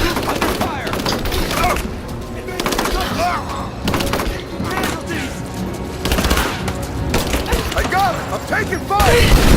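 A Rise of the Tomb Raider firefight with loud, continuous gunfire: rapid bursts and single shots crack over a constant rumble while voices shout throughout.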